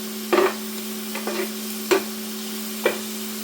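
Halloumi and other ingredients are tossed together in a hot pan: four separate stirring scrapes, each with a brief sizzle, over a steady low hum, with no one talking.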